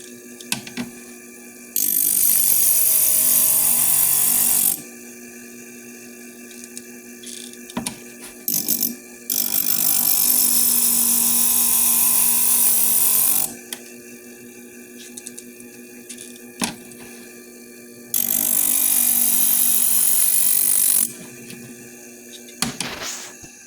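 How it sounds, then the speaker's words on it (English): A stained glass grinder works small pieces of glass in three separate bursts of harsh, loud grinding, each lasting a few seconds, with a quieter motor hum and light handling noises in the pauses between them. "Small pieces, you can just barely stick it in there and grind away."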